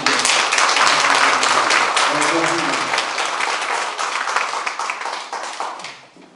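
An audience at a town meeting with the mayor claps together in loud, dense applause that tapers off over several seconds, with a voice briefly heard partway through.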